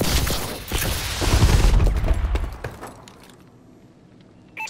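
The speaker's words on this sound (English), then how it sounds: "Friendly missile strikes incoming." Missile strikes explode in a video game as a loud rumbling barrage of booms and crackling blasts, which fades to quiet after about three seconds.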